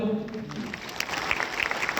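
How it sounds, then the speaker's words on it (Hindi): Audience clapping together at a stock-market trading class, a short burst of hand claps rising after the instructor's voice fades, fairly faint and brief. "अगर आपको समझ आ गई तो एक बार मिलकर ताली बजा दो"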